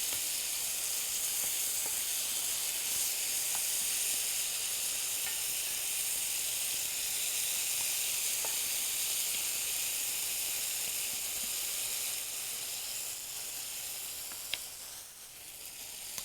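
Onion and tomato mix, seasoned with salt and pepper, sizzles steadily in a pan, a continuous close frying hiss with faint crackles and no talk.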